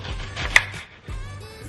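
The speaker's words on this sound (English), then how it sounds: "And then we're gonna chop up our onion." A knife chops an onion on a board during home cooking: a few close, sharp taps with a bright click in the middle, then quieter scraping.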